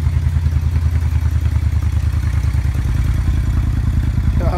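Suzuki Intruder 1400 motorcycle fitted with a Vance and Hines exhaust, idling loud and close after startup with a deep, lumpy, rhythmic V-twin burble, a brief rise near the end.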